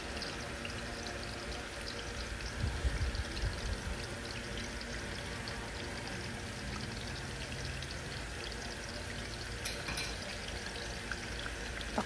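Soup base liquid poured into a pot for Korean shabu shabu, a steady quiet splashing stream with a slightly stronger gush early on.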